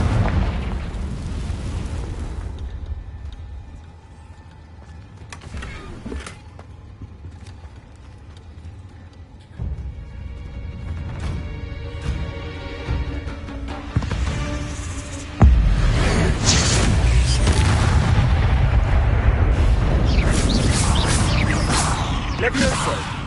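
Fiery Confringo spell blasts in the Hogwarts Legacy video game, a series of booming explosive bursts over a rumbling game soundscape, growing louder and denser toward the end.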